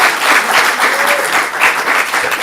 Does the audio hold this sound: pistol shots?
no